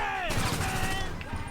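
Gunfire in GTA 5 rattles in quick repeated bursts, like automatic weapon fire, moderately loud with a voice talking over it.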